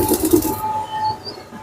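Two racing pigeons squabbling, with a burst of cooing and wing-flutter up close at the start, then low coos settling into a quieter, steady tone.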